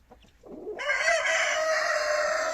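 A rooster on an ornamental chicken farm lets out one long, loud crow that rises after a short quiet start and holds steady to the end, with faint farmyard sounds underneath.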